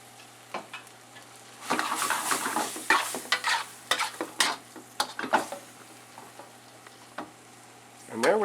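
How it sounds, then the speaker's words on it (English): Thai drunken noodles stirred and sizzling in a hot pan as the sauce goes in, with steady frying hiss broken by repeated scraping strokes and clanks, fairly close and loud. "I'm going to go ahead and add the rest of the sauce that I made back in"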